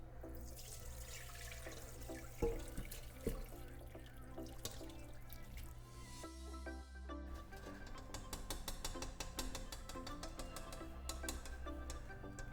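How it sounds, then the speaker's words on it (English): Cooled Boeuf Bourguignon cooking liquid poured through a strainer, a faint trickling and splashing of liquid with a few clinks, growing into a denser pouring stream partway through. "Now it cooled off. I'm ready to strain it."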